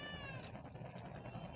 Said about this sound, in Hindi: ये हमारे घर की बिल्लियाँ हैं